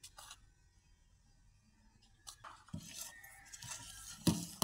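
A spoon scraping and clinking against a pot while a kharvas mixture of colostrum milk is stirred, soft intermittent metallic scrapes and taps close by, quiet and without talk.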